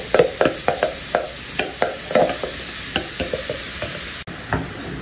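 Mushrooms sautéing with garlic and onion in a pan, a steady sizzle broken by repeated scrapes and knocks of a utensil stirring, with no talk.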